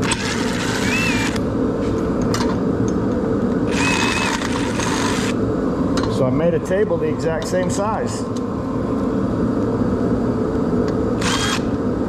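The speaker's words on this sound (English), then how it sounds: "Sorry about the heater noise behind me" A heater drones steadily in the background under someone speaking in a workshop, with a few clicks and bumps of work noise on top.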